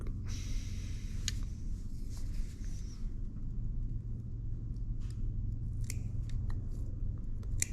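Wire cutters cut an electrical cord with a few sharp, quiet snips and clicks, scattered over several seconds above a steady low hum.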